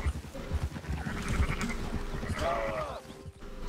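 Sheep bleat in a Red Dead Redemption 2 camp, several wavering calls mid-distance under game ambience, while players talk over them.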